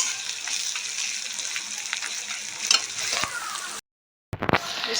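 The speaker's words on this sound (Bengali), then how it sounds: "পেঁয়াজ আর লঙ্কা কুচিটা আমাদের খুব ভালো করে ভেজে নিতে হবে।" Chopped onion and green chilli frying and being stirred in a pan for pasta, a steady close sizzle with scraping stir strokes, then a brief silent break before the frying resumes.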